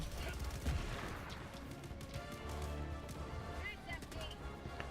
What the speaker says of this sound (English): These robot cannons are pretty good.